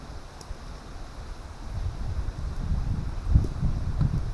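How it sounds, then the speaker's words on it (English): Wind buffets the microphone by an open lakeshore, with low gusty rumbles that build and swell after a quieter start, outdoors in fall with no voices. "That's probably why it's so windy here."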